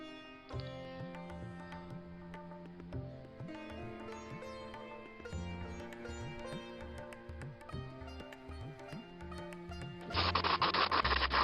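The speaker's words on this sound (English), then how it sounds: "here I'm just brushing some underframe grime on it" A paintbrush works Vallejo Track Primer grime onto the underframe of a Lima HO Class 33 model locomotive, making soft, repeated scratchy strokes over a faint tonal background, turning noticeably louder and rougher near the end.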